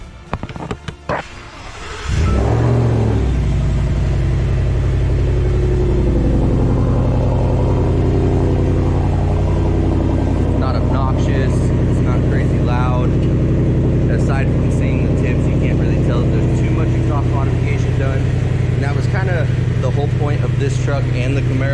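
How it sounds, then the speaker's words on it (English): A 1000-horsepower Project Fifty-150 supertruck engine starts up and rumbles loudly on its first test drive, a deep steady drone that builds and revs while the truck moves for about twenty seconds. "We're gonna take it for its first test drive"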